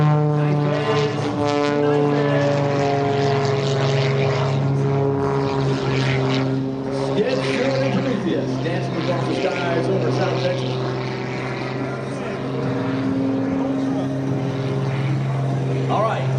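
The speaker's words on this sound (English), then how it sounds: "As he comes across the top, Skip brings the aircraft down the 45-degree line just that quickly." Aerobatic propeller airplane flying low at an air show, a loud steady droning engine roar with sustained tonal hum throughout, while an announcer talks over it.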